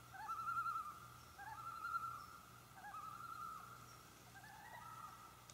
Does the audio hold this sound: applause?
no